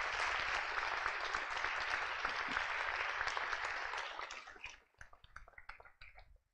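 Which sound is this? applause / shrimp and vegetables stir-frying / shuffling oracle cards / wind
applause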